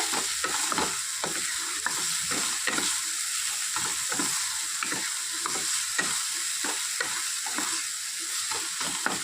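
Pomfret curry masala being stirred and fried in a pan, a steady sizzle broken by repeated scraping strokes of the spoon at an even rhythm, close and continuous with no talking.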